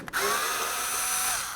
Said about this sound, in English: Using a Phillips head screwdriver, we're going to remove these 4 Phillips screws.